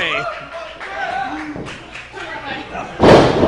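A missile dropkick landing in a tag-team wrestling match, a heavy thud near the end that rings out under excited commentary and crowd noise.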